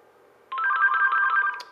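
A Straight Talk Huawei H226c home phone rings for an incoming call: a short burst of rapid electronic trilling tones starts abruptly after a quiet moment and runs for about a second before stopping.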